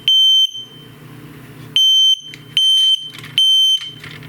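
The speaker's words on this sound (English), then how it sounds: "The 3 beeps, that's supposed to indicate the 3 beeps indicates the presence of smoke." A household smoke detector sounds its alarm pattern, loud piercing tones in a quick group, with a longer pause and then more tones, close by with quiet room noise between them.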